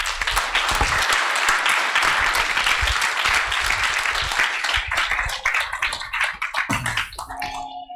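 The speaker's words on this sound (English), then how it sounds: "I would like to everyone to give a round of applause just for ourselves and for the community." Audience at a Perl conference lightning-talk session giving a sustained round of applause, dense and even at first, then thinning into scattered claps before fading out.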